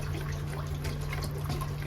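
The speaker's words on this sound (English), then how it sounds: "now I'm going to start to add milk into my roux" Milk pours steadily into a flour and butter roux for macaroni and cheese, a soft continuous liquid trickle and splash heard close up with no voices.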